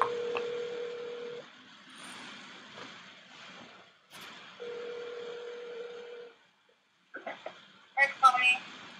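A telephone keypad and line tones sound in bursts: a steady tone, pauses, more tones, then a quick cluster of dialing beeps near the end, with faint background noise between.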